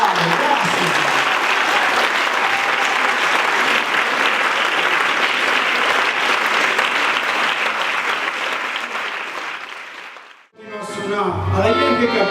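Loud, sustained audience applause at a live DJ show at a Friulian homeland festival in Nimis, steady for about ten seconds before cutting off, then followed by someone talking.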